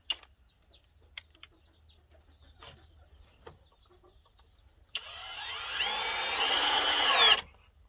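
A power drill drives screws into a wooden rabbit pen, giving one loud, steady whine of about two and a half seconds that climbs in pitch. It comes after quiet taps and faint bird chirps.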